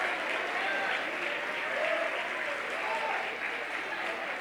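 A church congregation applauds steadily and evenly at a moderate distance, with a dense wash of clapping that holds for the whole stretch and no single voice standing out.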